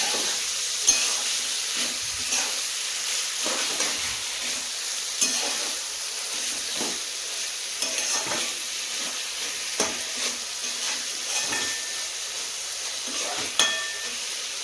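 Meat cooking in a pan over a low gas flame, giving a steady, even sizzle and hiss. Soft, scattered clinks and stirring taps sound close by, with no talking.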